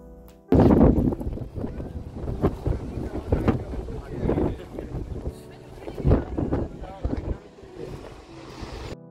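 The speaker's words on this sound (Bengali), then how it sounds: "এখানে হাওয়া দিচ্ছে, হাওয়ার সাউন্ড হয়তো পাওয়া যাচ্ছে ভিডিওতে, মানে ভীষণ হাওয়া" Strong wind gusts across an ancient hilltop site in England, with loud, uneven roaring bursts buffeting the microphone close up. The gusts rise and fall over several seconds.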